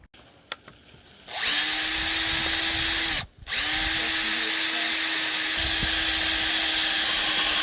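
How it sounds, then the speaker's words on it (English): A power drill whirs loudly and steadily as it drills holes in a table post in a Coachmen Beyond 22C camper, stops briefly for a moment, then starts up again and keeps running at a constant pitch. "drill some holes here to hold this onto the post"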